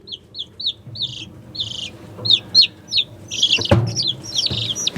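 Mississippi chicks peep in bright, rapid high chirps, a steady run of short calls that grows busier and overlapping toward the end, close by in a stock tank brooder with soft handling noise underneath.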